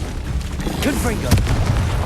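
A Confringo fire spell explodes in the Hogwarts Legacy video game with a sharp blast near the middle, set amid busy combat effects and game character voices.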